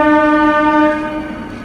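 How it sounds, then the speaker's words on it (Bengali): A Katwa–Bardhaman local train pulls into platform 6, sounding a loud, sustained multi-tone horn close by that holds steady and then fades slightly, with no voices. "দেখতেই পাচ্ছো ট্রেন ঢুকছে প্ল্যাটফর্ম নাম্বার 6 নম্বর প্ল্যাটফর্মে"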